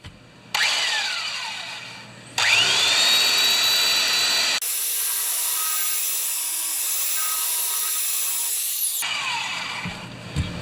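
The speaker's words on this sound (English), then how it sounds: "I might just get my sander." An electric sander works on wood in loud, whining bursts that start, run for a couple of seconds and cut off, with gaps of quiet between runs.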